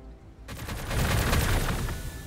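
Gunfire aimed at Ork bikes in Warhammer 40k Gladius erupts after a brief quiet moment into a dense, rolling volley of rapid shots and rumbling blasts that stays loud to the end.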